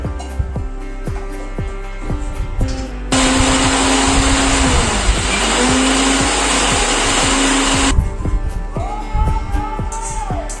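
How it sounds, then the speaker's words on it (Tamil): Boiled chickpeas grinding into paste in a mixer grinder jar: a loud, steady motor whir runs about five seconds, with light kitchen clatter before and after. "இப்போ வேக வச்ச சென்னால் கொஞ்சம் எடுத்து ஒன்று ரெண்டுமா வந்து மிக்சி ஜாரில் போட்டு அரைச்சி எடுத்துக்கலாம்"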